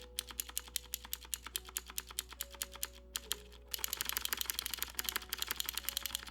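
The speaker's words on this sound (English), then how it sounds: "Just listen to the glorious spacebar while we wait" Steady, even typing on an HHKB Cake60 keyboard, close and crisp, with a deep, thocky spacebar clack among the rapid key clicks that speed into a denser flurry halfway through, over a low constant hum.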